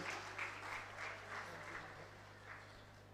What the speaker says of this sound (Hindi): बहुत सारी ताली के साथ हम हमारे बीच में आमंत्रित करना चाहेंगे श्री सुनील जैन जी।